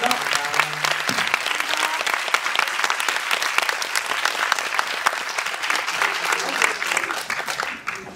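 An audience at a film screening and director talk in a cinema bursts into sustained, dense applause that carries on steadily, with a few voices faintly mixed in.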